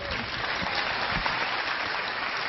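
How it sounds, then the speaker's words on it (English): A seminar audience claps, a steady wash of applause at moderate level that holds evenly for a couple of seconds without pause. "Give a round of applause."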